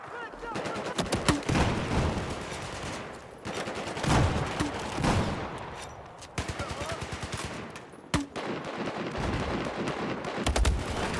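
Gunfire from the video game Battlefield 4 crackles in repeated rapid bursts and single shots, loud and near, with heavier booms mixed in and occasional speech over the battle noise.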